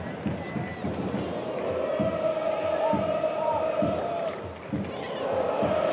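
A football crowd at a Chesterfield home match against Boreham Wood roars and urges a player to shoot, a sustained loud swell of shouting voices with a match commentator talking over it.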